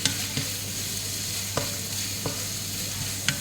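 Garlic and spices stir-fried in a pan for a chicken intestine dish, a close, steady frying sizzle broken by several sharp clicks of a spatula scraping the pan, with no voices.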